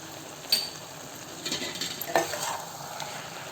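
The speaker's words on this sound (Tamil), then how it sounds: "ஒரு 2 நிமிஷம் பார்த்து நல்லா கலக்கி விடணும்" A spoon scrapes and stirs chicken gravy with garam masala in a pan, giving a few distinct clinks and scrapes over a soft, steady sizzle, close and fairly quiet.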